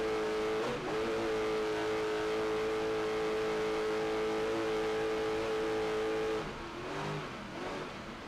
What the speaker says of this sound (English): Off and on the throttles as they get to the bumpy part of the race course.